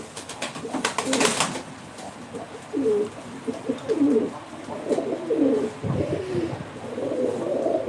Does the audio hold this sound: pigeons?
yes